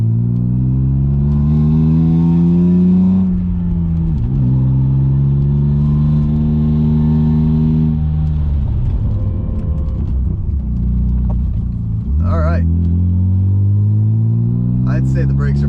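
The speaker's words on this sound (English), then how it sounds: "So you may be noticing that we still have the miserably sounding exhaust." A BMW E36 328is engine drones through a poor-sounding exhaust while driving, loud harmonic rumble rising and falling with acceleration and gear changes, someone talking over it at times.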